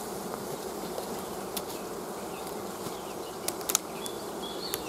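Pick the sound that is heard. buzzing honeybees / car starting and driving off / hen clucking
buzzing honeybees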